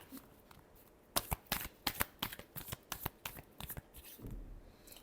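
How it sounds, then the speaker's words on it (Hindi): Tarot cards are shuffled up close in quick bursts of crisp riffling and flicking, a rapid string of sharp papery snaps that starts after a second of quiet and stays fairly soft throughout. "last shuffle"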